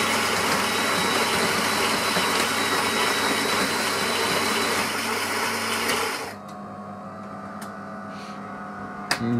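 A De'Longhi coffee machine grinds beans with a loud, steady mechanical whir close by, which stops abruptly after about six seconds and leaves a lower hum with a few faint clicks.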